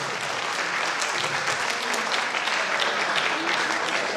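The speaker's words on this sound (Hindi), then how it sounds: "अब आप सबसे अपेक्षा है आप समस्त कलाकारों का स्वागत तालियों से करें।" A theatre audience applauds to welcome the performers of a Gita dance-drama, a dense, steady wash of many hands clapping at even loudness throughout, with faint voices murmuring underneath.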